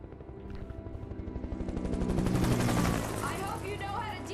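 Helicopter in the video game Alan Wake, a loud rapid rotor chop pulsing steadily and swelling in intensity, with a distorted radio voice over it.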